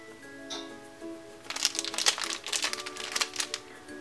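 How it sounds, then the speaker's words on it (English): A Yu-Gi-Oh! 5D's dog tag blind bag package being cut open, with close crinkling and crackling of plastic wrapper building into a dense rustle, no speech. "I am carefully going to cut the package open."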